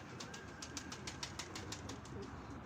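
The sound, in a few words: pigeon flapping wings taking flight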